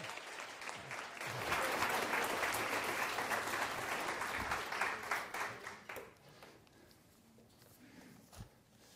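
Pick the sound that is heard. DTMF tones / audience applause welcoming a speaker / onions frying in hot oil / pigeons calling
audience applause welcoming a speaker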